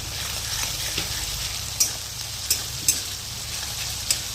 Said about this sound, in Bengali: এবার পেঁয়াজটা হালকা একটু লাল করে ভেজে নেওয়া হবে।